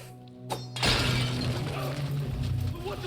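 A wooden barrel smashes in Assassin's Creed Mirage, an abrupt crash and splintering burst that settles into a steady game ambience with a low hum and scattered rustling debris, heard alone without talk.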